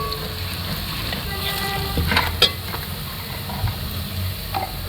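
Garam masala, red chili, whole spices and turmeric fry in browned ginger-garlic paste, giving a steady moderate sizzle with a few stirring scrapes and clinks.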